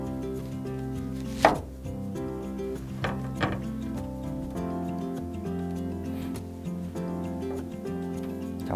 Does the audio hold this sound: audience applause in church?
no